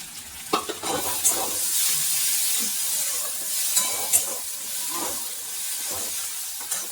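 Spice paste for Bengali egg curry sizzles steadily in a pan while a spoon stirs it, with scraping clicks and brief louder pops over a constant frying hiss, close and fairly loud, no talking.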